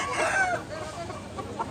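Chickens and roosters at the Carbon Market in Cebu, a close, loud crow trailing off amid busy market background noise.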